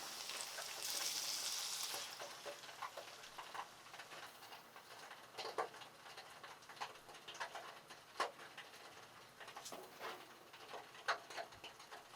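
Garlic and vinegar cooking in butter in a pan for spicy garlic lemon shrimp, a soft close sizzle with scattered ticks and pops, brief louder burst at the start, quiet and without talk.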